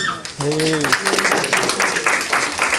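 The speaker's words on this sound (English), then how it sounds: "A big round of applause to all the kids." An audience at a devotional gathering at a cultural center claps for the children, a steady broadband patter of many hands after a brief sung or spoken tone at the start.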